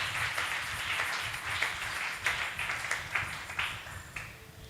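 A church congregation claps hands together, a dense, uneven patter of many claps with soft accents at a loose rhythm, fairly faint and diffuse, with no talking.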